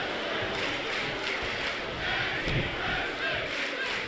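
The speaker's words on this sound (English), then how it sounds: "This crowd really thrilled to see tag team action here." A wrestling arena crowd in Canada roars steadily during tag team action, a dense continuous wall of cheering and shouting with a few louder bursts, no clear voice on top.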